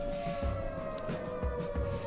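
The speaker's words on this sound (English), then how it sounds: "I really like air raid sirens, alright? They're so doomy and gloomy." An air raid siren holds a steady, droning wail with rich harmonics, sounding continuously over a low background rumble.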